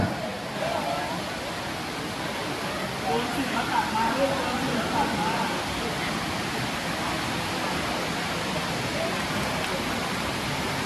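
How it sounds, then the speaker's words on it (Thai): Steady rain falls at an outdoor Thai Phu Thai music festival, a dense, even hiss that stays constant throughout, with people talking faintly beneath it. "บรรยากาศก็คือจะเป็นฝนตกแบบคลอยชุ่มฉ่ำครับ"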